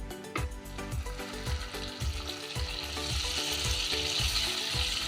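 Rohu fish frying in a kadai with white oil and melted butter: a bright, continuous sizzle that swells over time, punctuated by regular rhythmic scrapes and low knocks of stirring.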